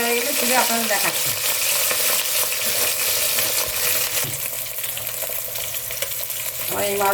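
Katla fish belly pieces frying in hot oil, giving a steady, loud crackling sizzle with light scraping stirs, and no voices.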